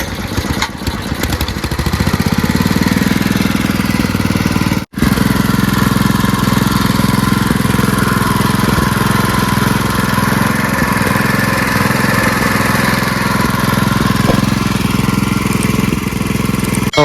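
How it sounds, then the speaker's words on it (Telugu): A Honda GX160 engine on a fishing boat, after repair, starts up and then runs steadily, a loud, close, continuous mid-pitched chugging drone that holds for well over ten seconds with one brief dropout. "ఫైనల్గా మన బోట్ ఇంజన్ రెడీ అయిపోయింది."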